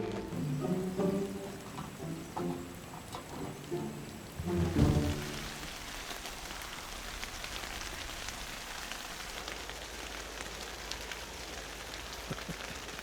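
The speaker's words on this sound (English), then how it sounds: "It's pouring rain outside." Heavy rain pours onto a tent in cold Siberian wilderness, a dense, steady hiss of drops drumming on the fabric, close and constant, with a brief rustle of movement inside the tent early on.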